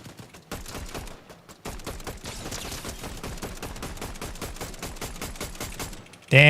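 Rapid sustained automatic gunfire in a first-person shooter video game, dense bursts with few gaps lasting several seconds, loud and close, ending in a sudden louder burst.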